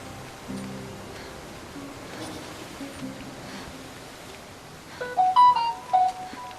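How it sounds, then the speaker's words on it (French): Mobile phone ringtone: a short melodic burst of electronic notes near the end, rising clearly above a quiet, hissy background. "j'ai oublié de mettre mon téléphone en silencieux"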